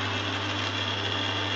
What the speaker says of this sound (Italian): Adesso il mandrino in movimento